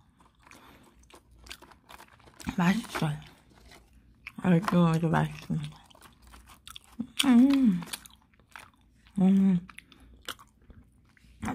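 Handmade nougat cracker bitten and crunched up close, four distinct crunchy bites spaced a couple of seconds apart with chewing between, while a person talks softly in Korean.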